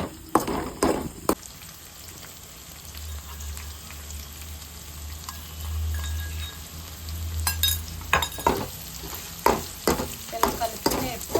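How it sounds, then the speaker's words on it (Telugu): Okra fry with crushed garlic and chili powder is stirred in a pan: a gentle sizzle under repeated clinking, scraping strokes of a spoon, growing busier toward the end. "ఇలాగా ఇలా దంచుకున్న వెల్లుల్లిపాయ కారం మనం బెండకాయల్లో వేసుకుందాం."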